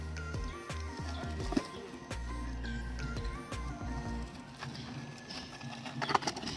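A camel plods along a village path near a tractor, a series of soft rhythmic footfalls over a low droning rumble, with faint bird cooing in the background.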